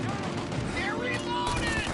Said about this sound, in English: Shoot up your gun when there's a break in the fire!